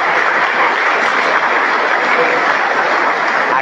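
Loud, dense applause fills a crowd gathering on the second day of a patron saint novena in Rio Primero, with steady clapping throughout and no pause.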